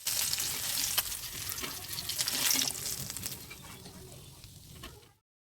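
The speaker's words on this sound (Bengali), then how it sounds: "উল্টে পাল্টে দুপাশে লাল লাল করে ভেজে তারপর তেল থেকে উঠিয়ে নিচ্ছি" Hilsa fish sizzles steadily in hot oil, with occasional clicks of stirring. The frying hiss grows softer, then cuts off.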